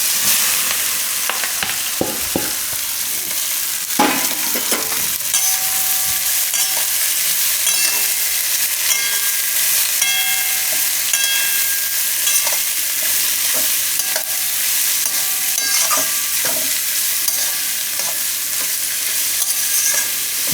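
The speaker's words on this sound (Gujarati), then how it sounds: "એમાં આપણે નાખી દઈશું આ કોબીને મરચાં." Cabbage and green chillies hitting hot oil with asafoetida, a loud steady sizzle that runs throughout, broken by occasional scrapes of a stirring spoon.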